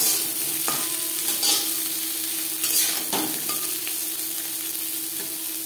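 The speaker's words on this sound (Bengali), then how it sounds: "3 মিনিট ডাটা ভেজে নেওয়ার পর দিয়ে দেবো পটল।" Pointed gourd frying with jute stalks in a pan, a continuous close sizzle with occasional stirring scrapes and clinks throughout.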